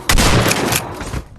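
A gunshot sound effect bursts out loud and close, a quick volley of sharp blasts with a short rumbling tail.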